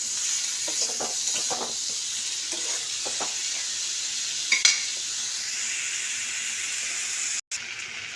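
Raw tomato chochchori with potatoes frying in a pan, giving a steady, close hiss of sizzling oil broken by a few soft scrapes and clicks as it is stirred, with no talking.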